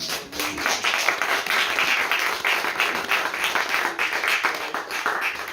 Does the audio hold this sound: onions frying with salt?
no